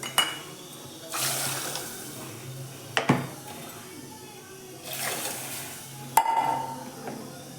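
Water poured into rasam being cooked, with bursts of splashing and pouring in a few separate spells, mixed with faint clinks of a pot and utensils; no speech is heard.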